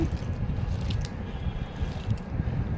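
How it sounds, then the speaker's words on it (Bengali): Bread slices soaked in a little water being mashed by hand for chicken kebabs, close, soft squishing and squelching in irregular bursts, fairly quiet with no talk. "পাউরুটি একটু হালকা পানি দিয়ে ভিজিয়ে রাখছিলাম এটা ভালো করে চটকায় নিতে হবে"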